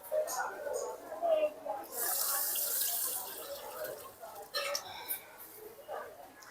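Water pumped from a temple pond gushes and splashes close by, with a strong rush in the middle and softer trickles around it, while a person talks.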